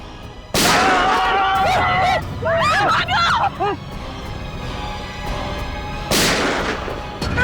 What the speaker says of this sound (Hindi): उसने मेरे ऊपर पहले गोली चलाई